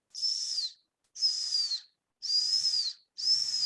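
A person imitates a hoarse, breathy whistle four times, each a sustained high tone dipping at the end, separated by short pauses.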